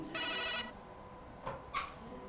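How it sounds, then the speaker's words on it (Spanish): A telephone rings with one long electronic trill burst, then two shorter chirps after a pause, fairly clear over a low background hum. "Todo inicia con el timbrar de un teléfono."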